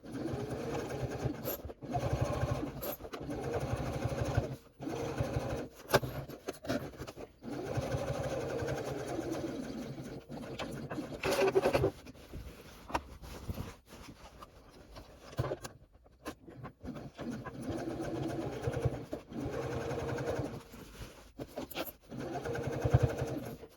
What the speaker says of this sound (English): And then we're going to sew down this side as well.